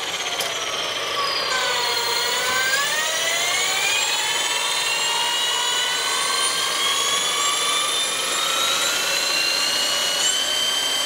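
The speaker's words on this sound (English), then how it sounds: "This is full power, and I'll show you the governed speeds, but it's even fast with Star Delta." An electric bike motor with a star/delta controller runs at full throttle, giving a loud, continuous high-pitched whine whose tones dip and then rise steadily as it speeds up.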